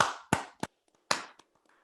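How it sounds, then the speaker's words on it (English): A few sparse hand claps for a presenter at a startup accelerator graduation event: several sharp, separate claps with gaps between them, fairly close and with no crowd swell. "Give him a warm round of applause as well"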